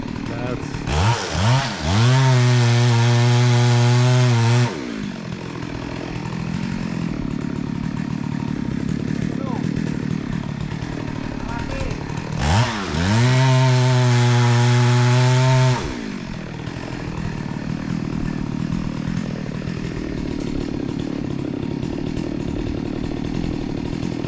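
A chainsaw cutting a mahogany tree trunk revs up loudly twice, each burst whining for a few seconds before cutting off, with quieter idling and background rumble between.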